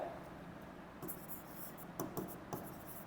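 Marker or chalk writing on a classroom board during a maths lesson, soft scratchy strokes in short bursts with brief pauses, quiet and close, no voice heard.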